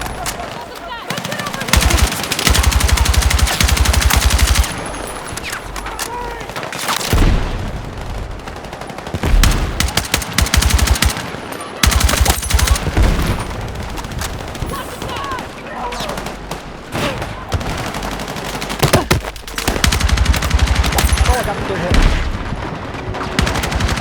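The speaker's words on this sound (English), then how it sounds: "I'm just watching the minimap and layering down fire in the direction of bombs." Sustained automatic gunfire in Battlefield 6, dense bursts and rattling volleys laying down fire nearly continuously, loud and close with occasional short gaps.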